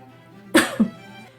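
A man coughs twice in quick succession, close and fairly sharp, with the second cough softer than the first, against a quiet background.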